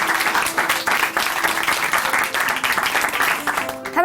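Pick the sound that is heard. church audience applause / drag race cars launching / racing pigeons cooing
church audience applause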